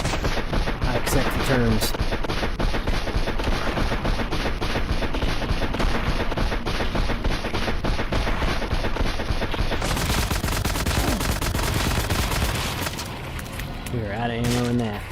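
Rapid, continuous automatic gunfire from a new gun in a video game, loud and relentless with dense overlapping shots, while a voice speaks over the barrage.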